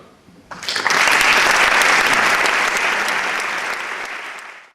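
A theatre audience at a tribute event bursts into loud, sustained applause that holds steady for several seconds before slowly thinning out.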